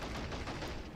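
Dense, continuous small-arms fire from infantry in the Men of War: Assault Squad 2 battle, a steady crackling barrage of overlapping shots filling the whole second at close-to-mid distance, with no voices.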